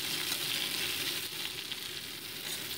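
Cauliflower pieces frying in oil in a pan, a steady close crackling sizzle throughout with faint stirring, no talking.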